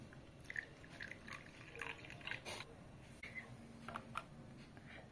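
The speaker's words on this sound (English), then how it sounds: "Take the measuring cylinder and fill it with water." Water is poured into a measuring cylinder for a soda carbonation experiment, making a faint, quiet trickle with scattered drips and small splashes over about five seconds, with no talking.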